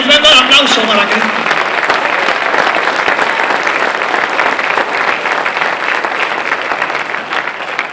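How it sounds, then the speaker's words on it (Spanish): A church congregation claps loudly and continuously throughout, a dense sustained applause with a voice briefly audible at the start. "Fuerte la ofrenda de aplauso para Cristo."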